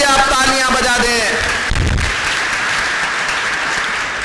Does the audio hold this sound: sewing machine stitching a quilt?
no